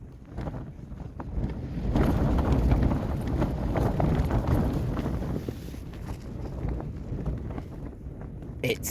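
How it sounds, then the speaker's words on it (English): Strong wind at a wild camp in the Lake District buffets the microphone and a tent in a continuous loud roar that swells and eases, with no clear talking. "It's a bit windy out there."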